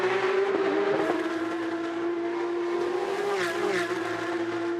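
Porsche Carrera Cup race cars run at Toronto with a loud, sustained engine howl that holds a steady pitch and then rises as the cars accelerate, and no talk.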